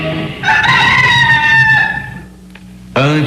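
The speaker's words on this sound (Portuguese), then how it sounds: "Antes que o galo cante," A rooster crows once, loud and close, in a long drawn-out call that falls away, with a second crow starting just before the end, in a Portuguese-language dramatization of Peter's denial of Jesus.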